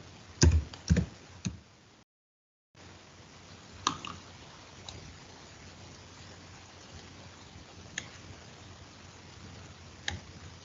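Sparse keystrokes on a computer keyboard as a search term is typed, with a quick cluster of clicks at first and then isolated taps over a quiet hum, and no talking.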